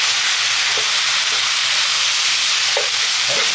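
Garlic fried rice with Spam bacon and Aloha Shoyu sizzles loudly in a hot pan, a dense, steady frying hiss with a few brief stirring scrapes near the end, close up and without talk.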